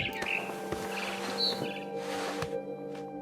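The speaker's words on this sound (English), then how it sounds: "Then I heard chirping outside my window. It was a barn swallow going back to her nest." A barn swallow chirps outside a window in the video game What Remains of Edith Finch: short, light tweets scattered over a quiet outdoor ambience with faint rustling.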